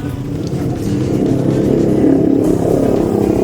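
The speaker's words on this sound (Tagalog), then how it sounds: "Hirap umahon motor mga boss." A motorcycle labors up a steep rocky bank from the Agos River in Barangay Magsaysay, Infanta, Quezon; its engine gives a loud, continuous, close-up drone that strains without a break.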